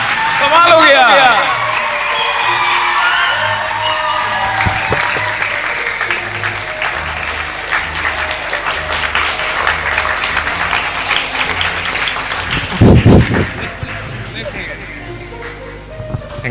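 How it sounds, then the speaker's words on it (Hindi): Audience applause at a school results event, honouring a student, broad clapping sustained under an announcer's voice, with a brief louder burst near the end and scattered whoops. "अनमोल के लिए एक बिग हैंड।"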